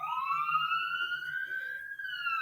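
An emergency vehicle siren wails steadily in a rising, sustained tone, clear and moderately distant, with no talking over it.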